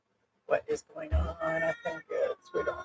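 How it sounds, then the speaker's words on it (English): A house cat meows in a home in the Philippines, a few short close calls mixed in among people talking. "that's the cat"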